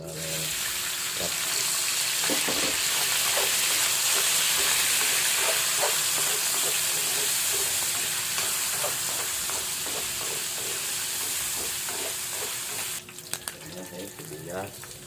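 Meat browning in hot cooking oil for pansit, a loud continuous sizzle close by with light stirring clicks throughout, shifting near the end.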